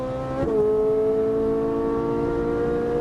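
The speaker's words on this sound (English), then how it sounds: "Now give me a little throttle." A race car engine on a track hums at high, steady revs, with one quick upshift break early on before the tone settles into a loud, sustained drone close by.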